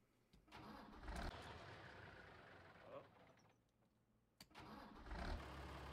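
A tractor engine in Farming Simulator 19 cranks and catches, then settles into a steady mid-pitched idle with a second burst of revving near the end, loud and close, with brief talk over it.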